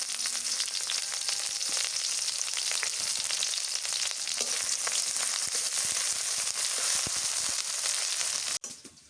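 Garlic, onion and green chili fry in a pan, a bright continuous sizzle with small crackles and pops, fairly quiet and alone, ending with a brief knock.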